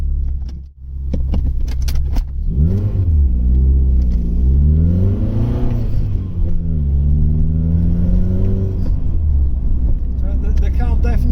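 Car on winter tyres spinning its wheels, a loud continuous engine drone with rising and falling revs as the wheels slip, close and steady throughout.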